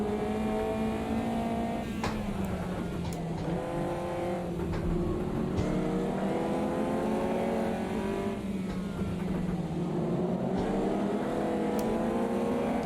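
Race car driven in the Automobilista 2 racing sim, played in VR with force feedback: a steady, loud engine drone rises and falls through gear changes and revs, with occasional tire squeal, running throughout with no talk.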